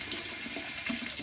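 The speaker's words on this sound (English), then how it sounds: "I'm going to rinse off with cold water" A tap runs cold rinse water after a shave, giving a steady, soft splashing wash with small gurgles throughout and no talk.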